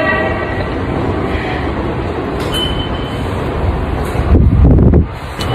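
A train passing near Asakusa, Japan: loud continuous rumble and rattle of railcars with wind buffeting the microphone, rising to a heavy surge near the end before easing.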